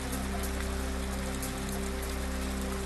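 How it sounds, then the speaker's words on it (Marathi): Heavy downpour in Vaijapur taluka, Chhatrapati Sambhajinagar, a dense, unbroken rain hiss with a low steady hum underneath and no voices. "छत्रपती संभाजीनगरच्या वैजापूर तालुक्यामध्ये मुसळधार पाऊस"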